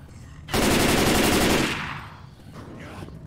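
A full-auto rifle in the game Left 4 Dead 2 rips off a loud, rapid burst of about a second, then tails off into echo and quieter background.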